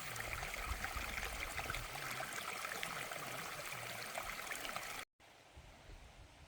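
Running water along a hiking trail in Pinnacles National Park, California, a steady close rush of a stream with faint trickling, cutting off briefly before resuming more quietly.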